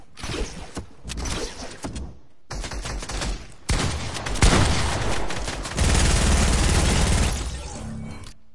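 Rapid SMG fire in a video game, bursts of dense rattling shots separated by short gaps, then longer sustained streams, loud and close with no talking.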